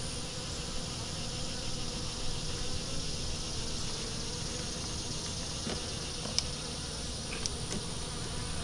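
Honey bees buzz continuously in a dense, steady drone, close and fairly loud, with a few brief clicks and no talking.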